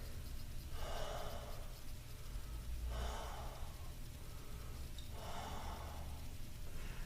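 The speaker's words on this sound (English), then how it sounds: "3 deep breaths" Three slow, deep breaths during a standing stretch, each a soft airy inhale-exhale swell spaced about two seconds apart, close and quiet with no talking.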